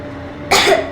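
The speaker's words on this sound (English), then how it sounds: "I have this cough." A sharp cough bursts out after a quiet half second, followed by the start of another, close and loud, in the video game Metro Exodus.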